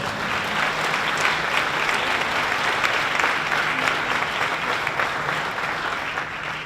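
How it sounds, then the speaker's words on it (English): An audience at a keynote event gives a steady, sustained round of applause, a dense wash of many hands clapping at an even level throughout. "How about a round of applause for our first"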